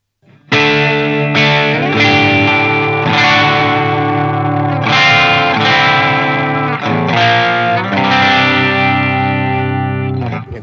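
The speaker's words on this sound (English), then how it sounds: "the hot-wired Wampler Brent Mason signature pedal, a very nice distortion pedal. It gives you that brown sound" Electric guitar played through a hot-wired Wampler Brent Mason signature distortion pedal, a warm, overdriven tone ringing out in a series of sustained chords and phrases with a chorus-like shimmer and reverb, loud and up front, no voices.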